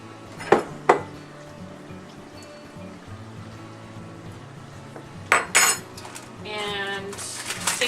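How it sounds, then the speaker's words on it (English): Pear pie filling spooned into a crock pot, with a few sharp metal clinks of a spoon against the pot early and again near the end, plus soft wet plops between. "put your fruit or pie filling into the crock pot"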